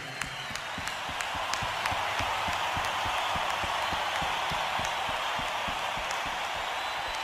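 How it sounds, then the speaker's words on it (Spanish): A band applauds its fans at a concert, with broad steady clapping from a crowd and sharper individual claps popping through at a regular pace, filling the space without talk. "Vamos a darles un aplauso nosotros a ustedes"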